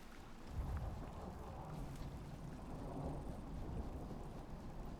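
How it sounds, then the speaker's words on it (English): A heavy thunderstorm in the survival game Icarus, with steady rain and low rumbling thunder rolling continuously at an even, loud level throughout, with no voices. "Icarus is going to throw a big storm at me now"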